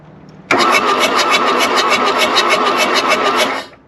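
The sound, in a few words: old diesel engine starting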